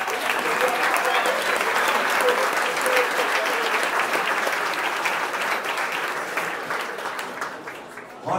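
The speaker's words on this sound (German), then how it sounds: "Einen Applaus, bitte." An audience at a short-film festival award show in Zürich claps steadily, dense sustained applause that fades slightly toward the end.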